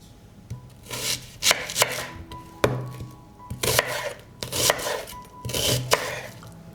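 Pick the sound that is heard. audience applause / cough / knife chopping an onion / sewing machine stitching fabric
knife chopping an onion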